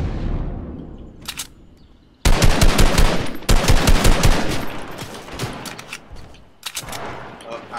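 Bursts of rapid automatic gunfire in a shooting video game, loud and close, with a dense sustained volley after a quieter stretch and scattered shots near the end.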